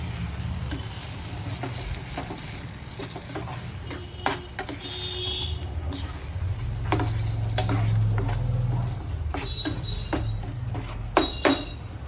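Dhaba-style paneer butter masala gravy bubbles and sizzles in a pan while a spoon stirs it, with repeated scraping and clinking strokes over a constant low simmer and a brief louder bubbling swell midway.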